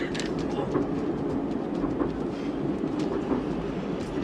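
TGV high-speed train running on rails, a steady loud rumble with faint clickety-clack wheel noise throughout, no talk.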